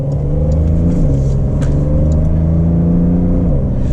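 Porsche 992 4S Convertible with a PDK gearbox accelerates, its engine note climbing steadily in pitch with a smooth rising drone and a brief dip near the end as the gearbox shifts, loud and close throughout with no talking.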